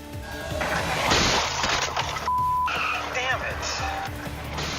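An out-of-control car smashes into a state trooper on duty, with a loud crash, tire screech and glass shattering, mixed under a news anchor's voice and dramatic broadcast music.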